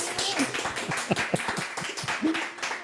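Scattered clapping from a small group, irregular and moderately close, with a voice speaking briefly over it.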